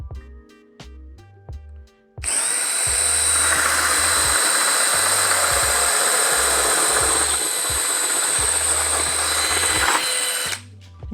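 A power drill with anti-kick protection runs in a continuous high whine for about eight seconds, loud and close, after a few short clicks and knocks, then stops.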